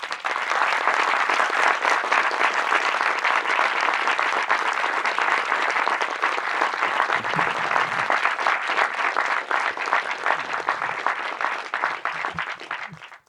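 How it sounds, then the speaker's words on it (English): A steady, dense round of audience applause at the ZFF Masters 2025 welcoming filmmaker Noah Baumbach, loud and sustained for the whole stretch, tailing off at the very end. "Please give a warm round of applause for Mr."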